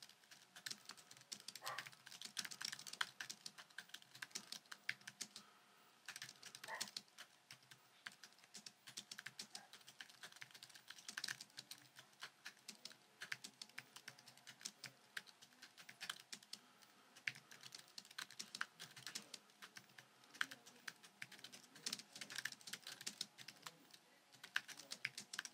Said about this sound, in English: So let's listen to the iMac Pro keyboard.